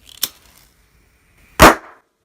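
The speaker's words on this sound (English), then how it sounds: "So that was an implosion, guys, not an explosion." Hydrogen bubbles ignite in two sharp pops, a small snap followed over a second later by a louder, fuller bang that quickly dies away.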